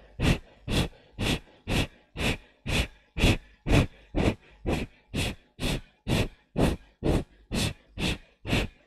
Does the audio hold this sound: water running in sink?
no